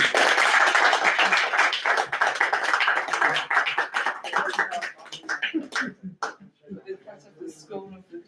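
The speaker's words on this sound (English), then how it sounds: "Can we have a round of applause for Tom?" Audience applause at a town council meeting after a badge award, dense clapping for about five seconds that thins into scattered claps as it fades, with voices talking near the end.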